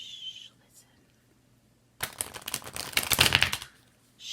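A brisk burst of tarot cards being shuffled, a rapid papery riffling that lasts about a second and a half after a quiet pause.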